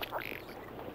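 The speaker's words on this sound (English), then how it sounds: "like the ruddy duck" A ruddy duck on calm prairie pothole water in the Canadian prairies gives a brief, faint call over soft outdoor background noise.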